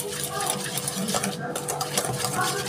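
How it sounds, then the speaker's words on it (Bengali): Butter is mixed with powdered sugar in a bowl for a chocolate biscuit dough, a spoon scraping and clinking steadily against the sides, close and continuous. "চিনিটার সঙ্গে বাটারটাকে আমি ভালো করে একটু মিশিয়ে নিচ্ছি।"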